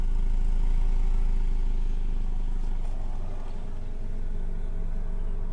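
Car engine with a white-smoke exhaust fault running in a workshop check, a steady loud low rumble that holds fairly even throughout with only a slight swell, no voices.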